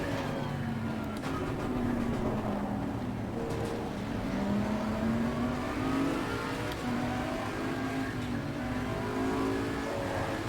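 An Audi GT race car engine in Assetto Corsa Competizione roars close by, with repeated revving rising and falling through gear changes as it races alongside other cars, loud and continuous with no talk.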